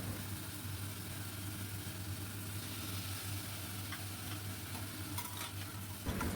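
Chopped tomatoes being stirred in a pan with potatoes for a white potato curry, a steady soft sizzle and scraping under a low hum, quiet and close, no talking.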